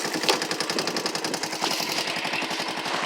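Honda ATC three-wheeler engine, not fully warmed up, firing and settling into a rapid, steady putter close by with no talk, the exhaust pulses loud and even throughout.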